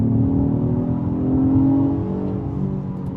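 An Acura MDX A-Spec SH-AWD engine revs hard under full throttle, a loud, steady drone that swells in pitch and volume around the middle before easing slightly, heard from inside the vehicle with no talking.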